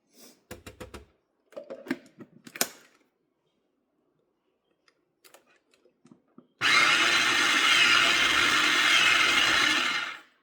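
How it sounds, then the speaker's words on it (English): Deviled egg filling being mixed: a few scattered taps and knocks, a near-silent gap, then a loud, steady whirring churn that runs for several seconds and stops abruptly. "Let's give it one more stir just to get those little edges in."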